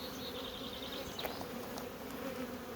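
Honeybees swarm around an open hive near the queen, a dense, continuous buzzing drone close by, steady and unbroken with occasional individual bees passing near, and no talking.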